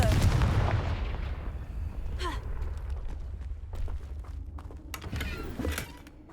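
A Confringo fire spell blasts in Hogwarts Legacy, a heavy booming burst with a rumbling tail followed by lighter crackles and impact thuds, loud and close over game ambience.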